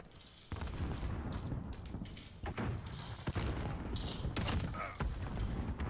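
Gunfire in a Modern Warfare match with the 725 shotgun, a few sharp booming shots spread across a dense, noisy background of game action, fairly quiet overall.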